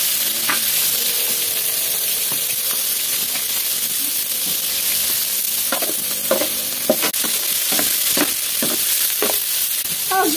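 Peppers fry in a pan with a steady, close sizzle and hiss, broken by repeated scraping clicks as they are stirred, busiest toward the end.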